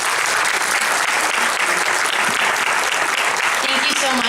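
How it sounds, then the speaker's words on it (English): An audience at a school board candidate forum applauds with steady, dense, loud clapping throughout, heard from within the crowd. "Please give her a round of applause."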